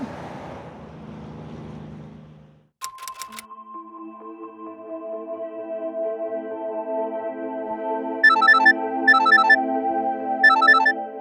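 A mobile phone ringtone begins after a couple of seconds of muffled noise and plays as a steady, loud melodic tone. Brighter chirping beeps repeat three times toward the end, with no one speaking.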